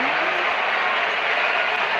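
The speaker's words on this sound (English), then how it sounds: "The crowd is enjoying every bit of this action." Steady crowd cheer and applause in the Real Cricket video game, a loud, even wash of noise from a stadium audience sustained without break, under a commentator's voice.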